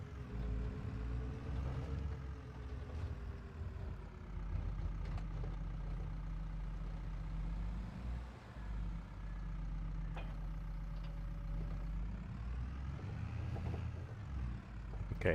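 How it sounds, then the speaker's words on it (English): A small tractor engine in the Farming Simulator 22 video game runs steadily with a low, continuous drone and faint mechanical rattling, holding a fairly even level throughout with no talk. "Distinctly different motor engine sound,"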